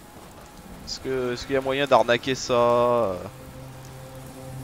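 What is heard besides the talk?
rain falling in video game Fallout 4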